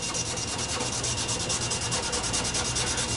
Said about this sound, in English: I'm just going to rub whatever I've got on here